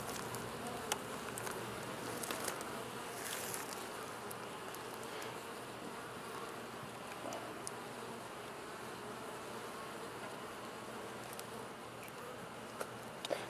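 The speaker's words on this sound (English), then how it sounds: "They have plenty of bees in here." Steady, dense buzzing of many honey bees around a hive, close and continuous, with faint rustling and occasional small taps.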